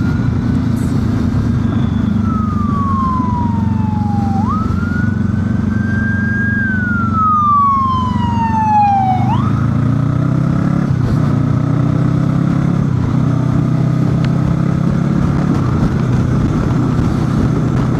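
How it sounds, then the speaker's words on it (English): A wailing ambulance siren sweeps up and down as it passes, over a constant rumbling motorcycle engine that revs slightly as it fades. "got a little ambulance coming."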